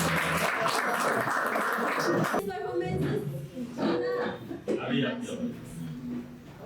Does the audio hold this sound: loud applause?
yes